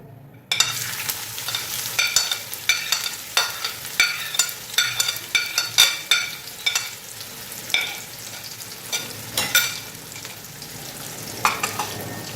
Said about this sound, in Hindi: इसमें हम ऐड करते हैं प्याज कटी हुई